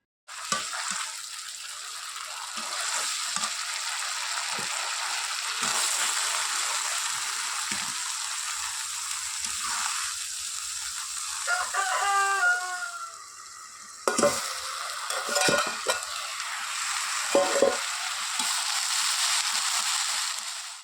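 Cabbage stir-fries with masala in a pan, with a continuous close sizzle and irregular scraping stirs; the sizzle briefly dips midway, then resumes strongly.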